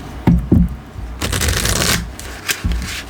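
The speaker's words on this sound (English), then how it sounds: "I like it when I can shuffle this way" A deck of playing cards being shuffled up close: a few quick riffles and snaps, then a longer whirring riffle and a couple more short bursts, with no talking.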